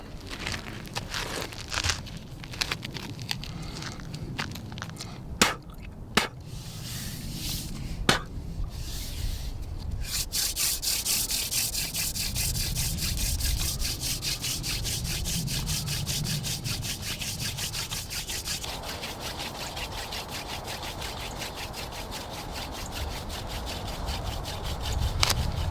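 A wooden hand drill spindle being burned into a board for a primitive fire, a continuous dry scraping, rubbing friction that settles into a steady grinding whirr, close and alone with a few sharp clicks early on.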